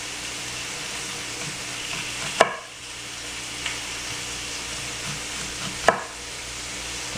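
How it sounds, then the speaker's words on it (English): Chicken frying in a pan gives a steady, even sizzle throughout, broken by two sharp utensil clanks against the pan. "Now that the chicken's cooking"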